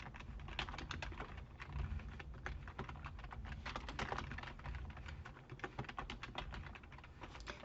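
Rapid typing on a computer keyboard while setting up a spreadsheet, a steady stream of close, quiet key clicks with uneven rhythm and no pauses.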